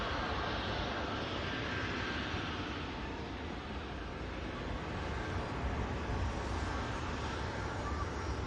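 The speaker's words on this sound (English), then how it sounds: "Sun Express just taxiing in here as well" A Sun Express airliner taxis at Manchester Airport, its engines giving a steady, broad whooshing roar that holds evenly throughout with no clear voices.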